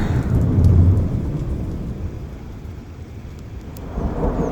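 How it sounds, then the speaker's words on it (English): Heavy rain pours steadily during a storm under a tornado watch with 70 mph winds, while deep thunder rumbles, loudest near the start and swelling again at the end. "And thunder and rain."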